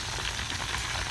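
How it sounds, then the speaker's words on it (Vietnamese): Chicken thighs deep-frying in hot oil give a steady, dense sizzle and crackle, close and continuous with no talk. "thì đùi gà của mình chiên giờ nó cũng đã vàng nè các bạn"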